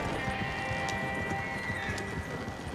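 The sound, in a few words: horses in video game Red Dead Online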